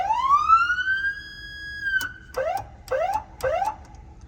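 Police car electronic siren on its wail tone winds up into a long rising wail that holds steady, then breaks into three quick rising yelp sweeps, loud and close.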